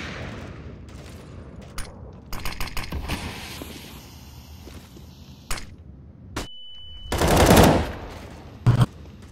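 Automatic AK rifle fire in Counter-Strike on the Cache map, rapid bursts of close shots scattered through a busy match, with a louder blast and a closing burst near the end.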